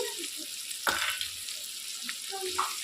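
Dried red chillies fry in oil for rice rava upma with a constant crackling sizzle, broken by one sharp clatter of a utensil early on.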